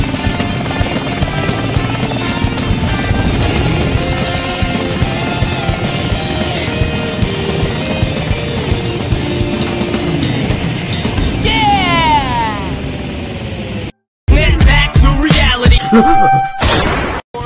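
A GUN helicopter's rotor in a Sonic video game chops steadily and loudly for most of the stretch, then cuts off abruptly and is followed by a burst of louder, clattering game sounds.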